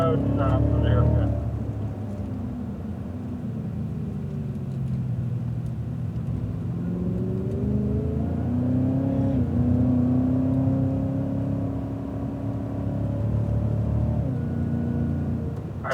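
A Cadillac CTS-V accelerates out of a corner on a race track, its engine a steady, rising drone that climbs in pitch and holds, with a driver talking over it throughout.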